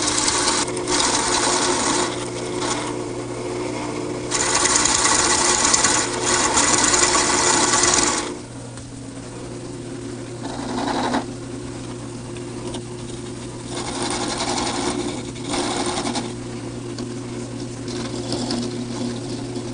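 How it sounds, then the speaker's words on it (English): A wood lathe runs at low speed while turning a wooden ball, giving a steady motor hum with broadband cutting noise for the first eight seconds, then a quieter drone with brief bursts. "So I'll just run the lathe at a low speed."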